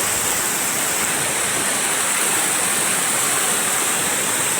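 River water rushes loud and continuous, a steady broad roar of flowing current with no voices.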